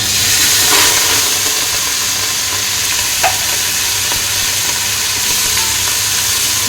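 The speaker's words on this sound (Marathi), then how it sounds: "मिरच्या चांगल्या क्रिस्पी होईपर्यंत हे आपल्याला परतून घ्यायचं आहे फोडणी" Chopped green chillies and curry leaves frying in hot tempering oil for a crisp Diwali chivda, giving a steady, close, loud sizzle with light stirring scrapes and no voices.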